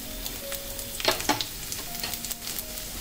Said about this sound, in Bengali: তেলটা গরম হয়ে গিয়েছে। এবারে আমি এতে দিয়ে দেব 1 টেবিল চামচের মতো রসুন কুচি।